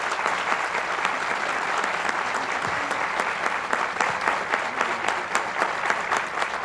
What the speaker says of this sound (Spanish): Un aplauso para el doctor Velarde